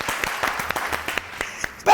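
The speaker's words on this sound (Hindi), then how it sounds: "तालियां।" Studio audience applause on a talk show, heard as scattered, fairly sparse claps in a loose rhythm at moderate volume, ending abruptly in a louder burst.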